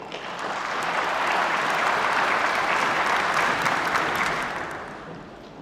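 A conference audience claps in sustained applause that swells quickly, holds dense and even for several seconds, then fades away near the end, with no voices over it.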